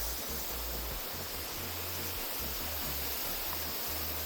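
Water poured into an outdoor pot of crawfish curry with butter and seasonings, a steady broad hiss and wash of liquid lasting throughout, fairly even in level, with no talk over it.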